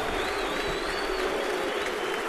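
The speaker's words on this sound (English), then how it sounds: "He'll get a big cheer" Crowd at Yankee Stadium during a 2009 playoff baseball game applauding and cheering a relief pitcher, a dense, sustained wash of clapping and crowd noise.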